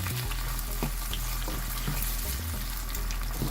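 Rice and boiled peas fry for matar pulao, giving a continuous dense sizzle with occasional stirring scrapes, steady and close throughout without any talk.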